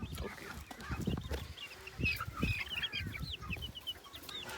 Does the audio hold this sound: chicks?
yes